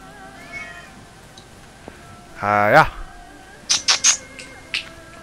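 Pet cat in a room gives one loud drawn-out meow, followed by a few short higher chirps, with a person's voice and faint game background sounds nearby.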